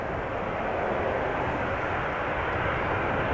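A KLM Boeing 737-800 arriving at Amsterdam Schiphol Airport produces a steady, loud, broadband jet roar that holds evenly throughout without any voices.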